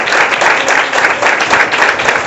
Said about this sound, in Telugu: గట్టిగా చప్పట్లు కొట్టి దేవుని నామాన్ని మహిమపరుద్దాం